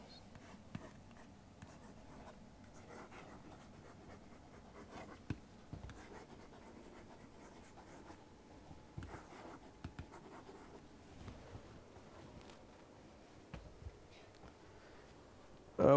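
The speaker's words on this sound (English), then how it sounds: "for drawing curved lines." A pencil draws curved lines on paper for an architectural isometric drawing, a faint, steady scratchy rasp with occasional small ticks, heard alone and close.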